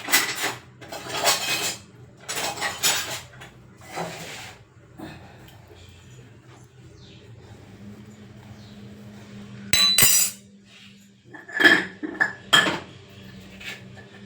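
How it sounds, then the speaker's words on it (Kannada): A metal ladle clinking against pots and dishes in a home kitchen during breakfast preparation, bursts of sharp clattering, then a quieter stretch, then several bright metallic clinks near the end, close and crisp. "ನಾನು ಸೌಟನ್ನ ತಗೊಂಡು ನಿಮಗೆ ತೋರಿಸ್ತೀನಿ"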